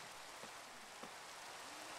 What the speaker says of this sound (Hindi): माइनक्राफ्ट में भी हर जगह बारिश ही बारिश